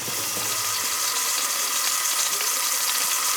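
A steady sizzling hiss rises from a 1 kg housekeeper's cut of beef browning in a Pressure King Pro pressure cooker, continuous and close, with no talking over it.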